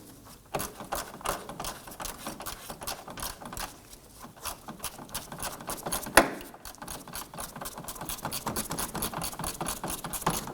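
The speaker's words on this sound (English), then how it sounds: "going to use our shallow 10mm socket on our ratchet" Ratchet with a shallow 10mm socket loosening a bolt during radiator replacement on a 2015-2024 Nissan Murano 3.5L V6, a steady run of quick clicking pawl strokes, close and fairly quiet, with a brief sharper knock midway.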